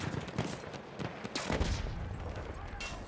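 Gunfire in a Battlefield 1 match: a dense, steady stretch of overlapping shots and distant blasts rolls on for about three seconds with no gaps, and sniper fire sits somewhere within the clatter.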